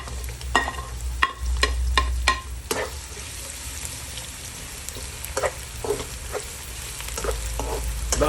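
Garlic and onion sauté in plenty of oil with a steady sizzle, punctuated by sharp scraping stirs of a spatula against the pan.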